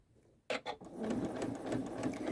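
A Janome sewing machine with a rolled hemmer foot stitches a hem, starting with a couple of short bursts and then settling into a fast, steady mechanical whirr and rapid needle patter close by.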